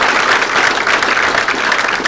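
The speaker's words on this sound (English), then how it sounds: "Let's give a big round of applause for everyone." A large audience at an Austin startup community event welcoming Army Futures Command applauds loudly and steadily. The dense clapping holds at a constant level from start to finish, with no voices over it.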